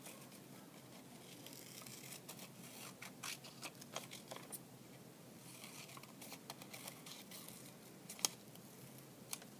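Scissors cut out a piece of white paper, giving faint, close snips and light paper rustles scattered through a quiet room.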